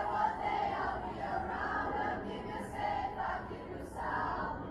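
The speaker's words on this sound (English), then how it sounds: "the crowd knows it because they're already humming along" A large concert crowd in Brazil sings along to a Shawn Mendes song, a broad wash of massed voices swelling and falling in phrases, with no clear instruments standing out.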